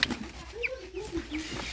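A village chicken clucks softly nearby, a few low murmuring clucks and a brief higher note over quiet outdoor background.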